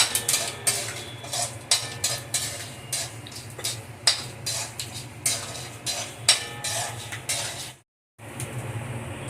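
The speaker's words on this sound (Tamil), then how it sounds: "இப்போ நான் ஒரு 10-12 முந்திரி பருப்பை இதில் போட்டுக்கிறேன்." Cashews sizzle in hot oil while a utensil scrapes and stirs against the pan in frequent irregular strokes, followed by a brief silence.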